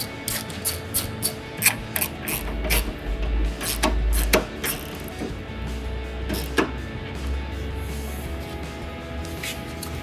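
Ratcheting and clicking from tightening the headlight mounting bolts on a 2007-2013 GMC Sierra 1500, a run of sharp close metallic ticks in uneven bursts over low handling noise, with no talking.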